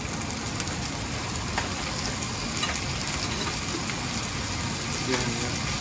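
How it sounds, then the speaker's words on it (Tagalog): Garlic and onion frying in a pan give off a steady, close, dense sizzle with crackling spatters that continues without a break. "Medyo mamula-mula na ng konti yung bawang natin. So let's add onion, garlic."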